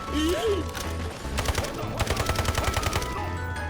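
Rapid bursts of gunfire in the video game Delta Force crackle close and loud, coming in quick repeated volleys over a steady low engine-like hum.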